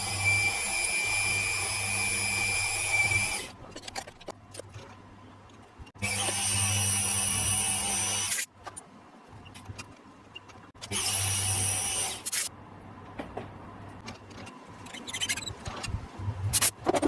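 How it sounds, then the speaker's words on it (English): A drill whirs loudly in three long runs of several seconds each, drilling M6 tapping holes in metal held in a vise, separated by quieter pauses with clicks and handling noises, close up. "Drill and tap some M6 hole in there."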